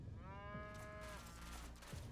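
Cattle mooing in the post-apocalyptic video game Wasteland 2, a drawn-out, tonal low moo lasting about a second, then fading into a rougher trailing call over steady ambient game background.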